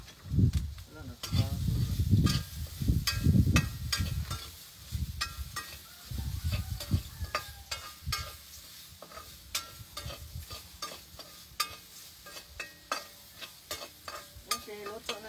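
Adobo cooking in a pan, stirred repeatedly, with sizzling and frying throughout; scraping stir strokes come close and loud at first, then lighter clinks and a steady low sizzle continue alone.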